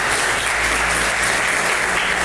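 A church congregation applauds after a scripture reading, giving dense, steady, continuous clapping that fills the room at full volume with no voices standing out.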